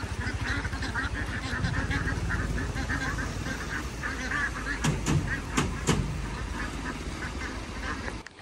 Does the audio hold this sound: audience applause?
no